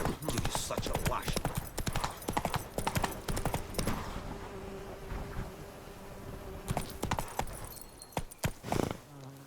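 A horse gallops in The Witcher 3, rapid loud hoofbeats clattering in bursts, easing off briefly in the middle before picking up again, with voices speaking over parts of it.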